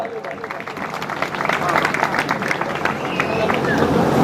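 Audience applause at an outdoor lok dayro folk music program during a 2024 temple anniversary festival, a dense crowd clapping that swells after the first second and continues steadily, with faint crowd murmur.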